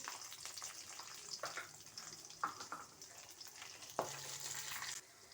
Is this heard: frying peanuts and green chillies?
yes